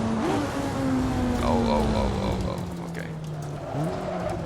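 Lotus 49 race car in the Assetto Corsa racing game, with a steady engine drone shifting pitch and a brief rev, played loud and close while a voice talks over it.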